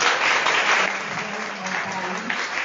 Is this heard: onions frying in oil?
no